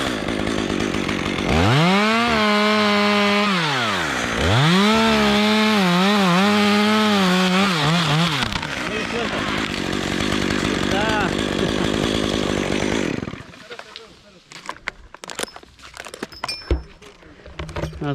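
A chainsaw revs loudly close by, rising and falling in pitch as it makes an undercut and back cut through a limb of a leaning maple, then cuts out, leaving quiet rustling and small knocks.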